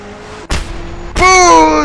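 A car in the video game Just Cause, heard as a sharp thump followed by a loud, rising engine rev that holds steady for under a second.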